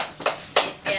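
A young child claps three times at an even pace, the claps close and moderately loud.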